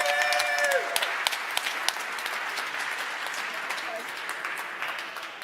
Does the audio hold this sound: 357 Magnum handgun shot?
no